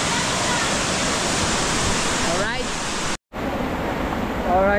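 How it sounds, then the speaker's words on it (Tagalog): Strong water rushes steadily at a waterfall, a loud, continuous broadband roar filling the whole scene, with brief voices faintly over it. "medyo malakas yung daloy ng tubig oh"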